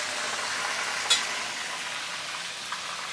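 A whole snapper deep-fries in hot oil in a wok, giving a soft, steady sizzle and crackle with one brief louder pop, heard close and without talk.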